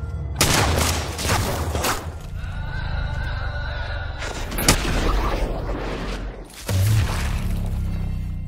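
Several sharp gunshots burst out over a dense, noisy action soundtrack from the Fallout series, with loud booming hits spread across the clip.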